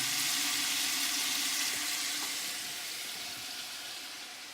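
Braciole and other meat sear in a hot pan, a steady close hiss of sizzling fat that slowly fades over a few seconds.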